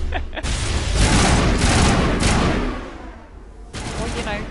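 Sustained gunfire in the Mass Effect video game, a dense loud burst of rapid shots and booms lasting several seconds, with a brief pause and then more firing at the end.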